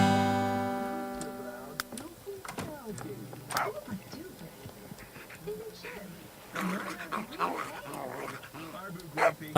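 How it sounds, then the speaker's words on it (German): A dog in The Sims 3 gives short barks and growly vocal bursts at a party scene, mixed in with game sounds and someone talking over it. "Ach, die haben einen Hund."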